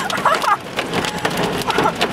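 Hail drums on a car windshield during a storm chase in the Mississippi Delta, a dense loud patter with sharper individual impacts and muffled voices mixed in.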